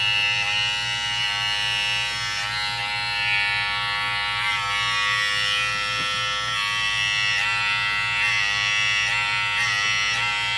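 BaByliss Gold FX hair clippers fitted with a Wahl blade run with a steady, close electric buzz and a bright whine, holding level throughout with no talking.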